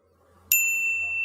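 Notification bell sound effect, a single bright ding that strikes suddenly and rings on with a sustained, slowly fading tone, clear and alone.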